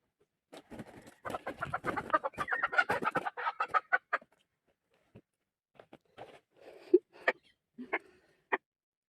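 A young fighting rooster, about four months old, clucks and squawks in a busy burst, then gives a few scattered, sharper calls with short silences between, close by.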